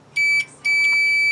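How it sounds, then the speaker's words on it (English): A multimeter set to continuity while checking a part of an electric Roper dryer, giving a short beep and then a sustained, loud, clear electronic tone that continues to the end. "then we'll see if it's gonna make the beep"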